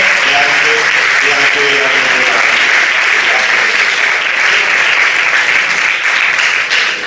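Sustained loud applause from an audience, steady clapping throughout with a voice speaking briefly over it.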